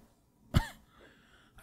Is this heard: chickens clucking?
no